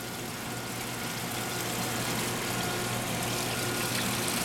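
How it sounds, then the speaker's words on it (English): A TG12x4 high-accuracy centerless grinder with an automatic feeder runs while grinding dilator tips, giving a steady, loud, broadband mechanical whir that holds constant throughout with no voices. "shifted, and dropped into this tray here, where it will be fed into the grinder"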